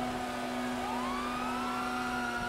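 Police car sirens wail faintly in a roleplay video game, a rising tone sweeping over a steady engine hum, distant and low in level.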